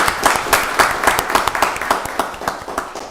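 Applause at a county board of commissioners meeting, a room of people clapping in a steady dense patter of sharp claps that gradually thins and fades toward the end.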